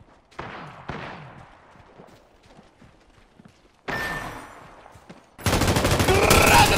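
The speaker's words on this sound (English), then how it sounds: "I am taking fire, friends." Gunfire in an Apex Legends match: scattered soft shots early, then a loud burst of fire near four seconds and a dense, noisy roar of sustained firing at the end, with game effects mixed in.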